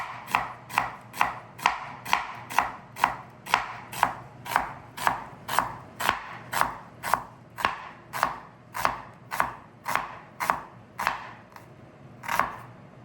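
Knife finely slicing onions on a board for a spicy Bún Bò Huế beef noodle soup, about twenty crisp, close cuts in a steady, even rhythm with no talking.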